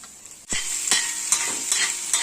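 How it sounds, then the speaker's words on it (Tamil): Grated egg is stirred into cooked masala in a hot pan for egg burji, with a spatula scraping in several distinct strokes over a continuous bright sizzle of frying. "இப்போ துருவி வச்ச எக் போட்டு கலாரி விட்டுக்கலாம்."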